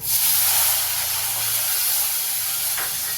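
Onions dropped into hot oil for tempering a Tamil pirandai kulambu with vadagam, a loud burst of hissing sizzle that settles into a steady, close spitting hiss, alone without talk.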